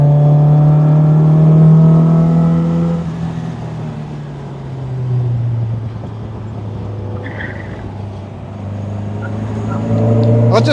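MGB sports car at about 80 mph on the Castle Combe track: loud engine drone that drops in pitch after a few seconds, then a steady lower whir with road noise, rising again near the end.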